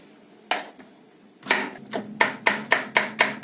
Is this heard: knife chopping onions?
yes